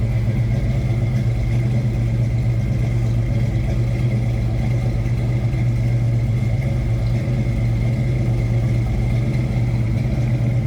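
A 1966 Ford Mustang coupe with a 289 V8 and 2.5-inch Flowmaster exhaust idling with a steady, loud, deep rumble, close and continuous for about ten seconds with no talk.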